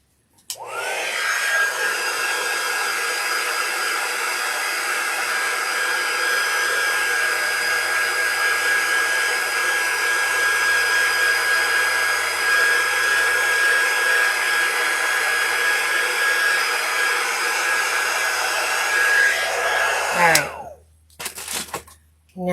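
A hair dryer blows steadily for about twenty seconds, drying paint on a witch-themed insert for an interchangeable window, with a constant whine and airflow hiss before it switches off and a few handling sounds follow.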